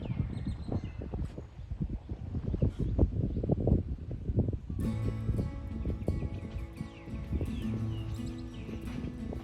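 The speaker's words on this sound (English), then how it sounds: "Do you hear the sound of the natural birds?" Birds calling outdoors in a rural Cambodian village in Kampong Cham province, chirps and whistles scattered over rustling and wind, joined by a denser chorus of calls in the second half.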